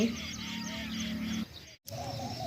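Birds calling with honking, goose-like cries over a steady background, broken by a short silent gap before the calls resume.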